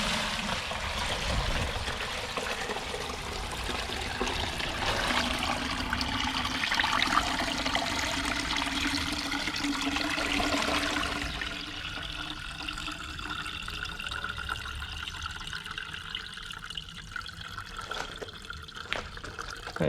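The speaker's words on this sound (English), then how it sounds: "All I do is pick it up and strain it through this strainer" Homemade liquid fertiliser is poured through a strainer, making a continuous splashing trickle of water that runs steadily and softens slightly toward the end.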